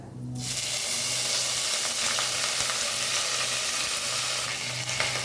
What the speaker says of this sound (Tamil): அடுத்தது இந்த புதினா கொத்தமல்லியை போட போகிறோம் ஆயிலில்